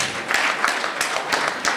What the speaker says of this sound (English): A big round of applause for DSTV.